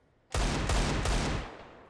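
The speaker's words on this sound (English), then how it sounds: "spicy wall bangs coming through here, but apparently Deagles can't melt steel beams" Desert Eagle shots fired through a wall in Counter-Strike on the Vertigo map, during an OG vs. fnatic match at IEM Dallas 2023: about three loud, punchy shots in quick succession, then a fading tail.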